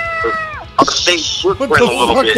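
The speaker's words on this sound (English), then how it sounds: "what, that's our cat" A pet cat lets out a drawn-out meow near the start, followed by people talking over it at close range.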